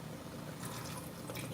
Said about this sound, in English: gonna pour a little bit of olive